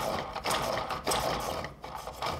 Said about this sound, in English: my plan now is to set it up and spin it a couple of times to wear it in.